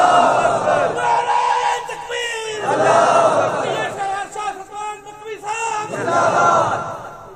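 A large religious gathering answers a shouted slogan with a loud, unified chant, several surging crowd responses rising and falling in waves over the space of a few seconds.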